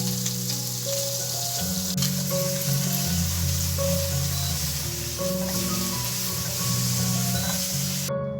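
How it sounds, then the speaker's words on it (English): Prawns fry in hot oil with a loud, steady sizzle and crackle that runs continuously throughout, with no voices. "It takes about 5 to 7 minutes if you're frying. And that is a perfect range to fry the prawns"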